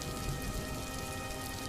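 Steady rain falls as a continuous dense hiss of drops on surfaces, close and even throughout, used as an effect in a Hindi story about a cold, rainy spell in a village.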